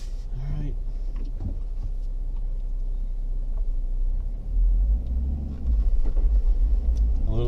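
A manual car pulls away as the clutch is let out a little too fast without stalling, its engine a low, close rumble that swells in two steps toward the end, with voices talking inside the cabin.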